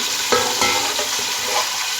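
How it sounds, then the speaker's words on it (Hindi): Beef frying in a pot with garlic and ginger, a steady close sizzle with stirring scrapes and a couple of louder clatters, no talking. "अब गोश्त को फ्राई कर लूँगी।"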